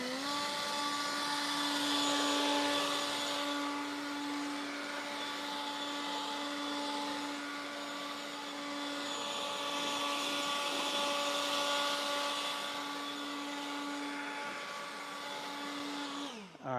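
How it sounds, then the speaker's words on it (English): A leaf blower runs steadily for the whole stretch, a loud continuous whining drone with a strong tonal hum, held close and unbroken while clearing leaves. "You don't want to blow these leaves everywhere"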